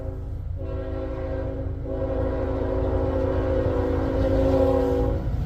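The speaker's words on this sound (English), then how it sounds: "we do have a train coming, a westbounder" A westbound freight train passes at a car wash in LaGrange, Ohio, its horn sounding in long, steady blasts over a continuous low rumble of rolling cars that grows louder and closer.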